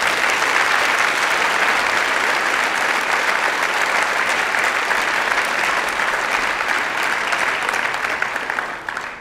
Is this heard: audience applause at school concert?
yes